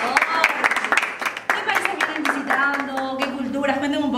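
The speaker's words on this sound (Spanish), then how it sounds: "Un fuerte aplauso, por favor." Scattered applause and clapping from an audience at a live interview with a band, moderately loud, with voices talking over it toward the end.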